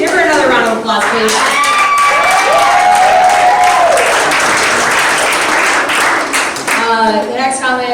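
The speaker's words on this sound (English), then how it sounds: "Give her another round of applause, please." Loud applause and cheering from a comedy club audience fill the room, steady clapping with whoops and shouts on top for several seconds, a voice calling out over it near the start.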